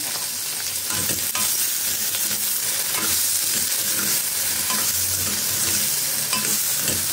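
Brinjal pieces sauté in a pan with a loud, steady hiss of frying, broken by occasional clacks of a stirring utensil, close up and without any voices.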